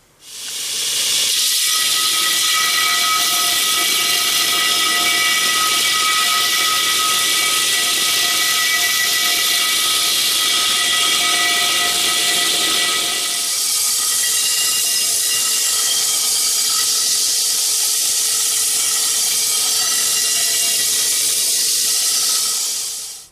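Angle grinder grinding metal parts, a loud, continuous hissing roar with a high whine that holds for over twenty seconds, its tone dropping slightly partway through, with no talk.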